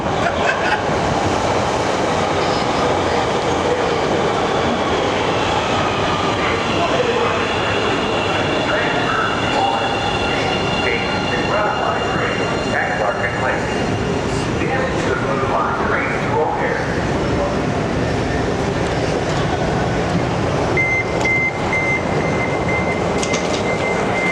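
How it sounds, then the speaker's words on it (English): A Chicago CTA Blue Line train pulls into the platform with a loud continuous rumble, screeching wheels and squealing brake tones rising over the roar, close by and steady throughout. "when we got to the platform, a blue line train was arriving"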